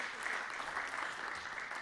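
An audience claps after a presentation at a business scale-up showcase in London, a steady, fairly soft patter of many hands throughout.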